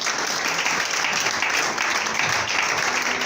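A church congregation applauds during a sermon, a sustained dense roomful of clapping, steady and loud throughout.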